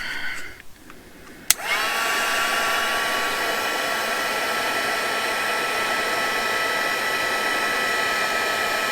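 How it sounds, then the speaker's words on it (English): A heat gun roars on at about 1.5 seconds after a sharp click and keeps up a steady, loud, whooshing blow with a faint whine, aimed at a black altered book page in a craft setting. "bring it over, get the stuff out of the way, and heat gun"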